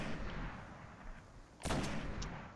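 Gunshots fire in the sci-fi shooter Destiny: The Taken King during a solo Nightfall mission, with two sharp reports in quick succession over a steady background of game ambience, fairly loud and close.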